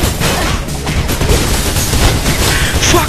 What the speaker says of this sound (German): die haben ein Maschinengewehr